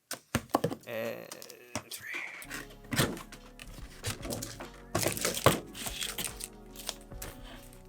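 Blade slicing through the tape and cardboard of a boxed anime figure, with scattered scrapes, thunks and crinkling handling noises up close, and a brief spoken word at the start.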